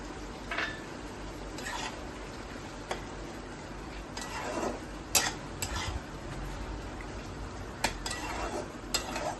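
Prawns pre-fried with salt and turmeric are tipped into a pan of pumpkin and Malabar spinach greens and stirred. A spatula scrapes in soft, irregular strokes over a low, steady sizzle, with a few sharp clicks against the pan and no voices.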